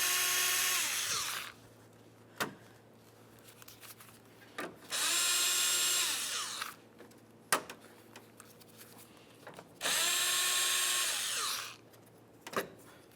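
A power driver with a 10mm socket spins out bolts on a 2007-2012 Nissan Sentra while the windshield washer reservoir is replaced. There are three loud whirring bursts, each a few seconds long, separated by sharp clicks and short pauses.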